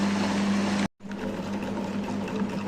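A wet grinder churns rice for idli batter with a steady droning motor hum and sloshing, briefly cut to silence before resuming, close and continuous with no talking.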